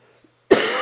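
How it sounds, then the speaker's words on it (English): One sharp, close cough from a man with a cold, following a brief quiet moment during a classroom review lesson. "Sorry, I'm coughing."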